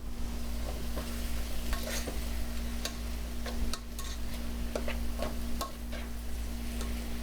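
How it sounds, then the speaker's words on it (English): Meat sizzles with onions in a pan, a constant frying hiss broken by repeated clicks and scrapes of stirring, alongside a low steady hum. "We're going to give it a stir."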